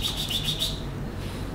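A pleci (white-eye) songbird chirps a quick series of high, thin notes, fairly close, then falls quiet against a soft room background.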